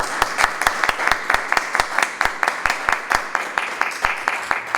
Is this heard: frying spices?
no